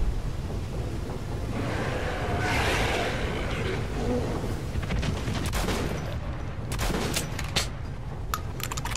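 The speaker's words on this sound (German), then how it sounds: "Zwei Schüsse ins Gesicht ist wirklich super." Rapid bursts of gunfire in the video game Metro: Last Light crackle over a dense, rumbling wall of noise, with sharper cracks near the end and a voice mixed in.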